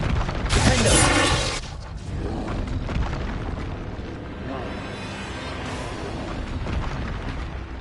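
Expulso explosion spell in Hogwarts Legacy: a loud burst near the start that rolls into a rumbling, crackling aftermath under a busy game soundscape, with a voice speaking over it.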